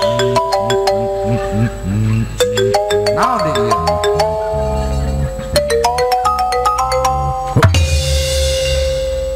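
A mobile phone ringtone for an incoming call plays loudly at a live Sundanese calung comedy show, repeating a bright electronic melody in short bursts, with a voice speaking briefly over it.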